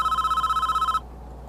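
A telephone in the Prison Architect video game rings with a rapid, trilling electronic bell for one second, then stops abruptly into quiet background.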